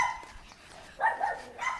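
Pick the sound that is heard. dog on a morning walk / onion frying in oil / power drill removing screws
dog on a morning walk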